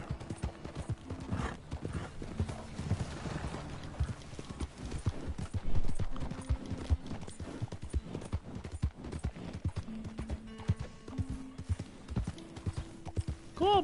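Horse hooves clip-clop rapidly and continuously on the ground in Red Dead Redemption 2, a close, rhythmic trotting beat lasting throughout, with a brief whinny-like tone near the end.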